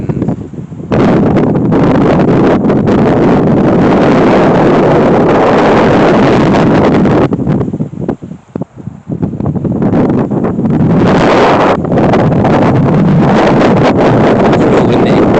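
Strong wind gusts roar across the microphone beside a lake in Cumbria's Lake District, a loud, steady buffeting that dips briefly midway before surging again.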